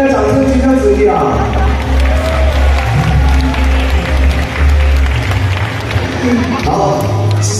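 An audience at a magic show applauding and cheering, a loud dense crowd roar mixed with someone speaking and music over it.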